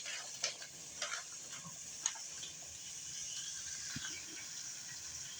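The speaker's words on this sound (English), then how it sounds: "We're going to take our 4 onions that were the size of baseballs and we're going to drop them in the pot" Four baseball-sized onions sizzle in a hot soup pot while being stirred, a quiet steady frying hiss broken by a few soft scraping clicks of the utensil.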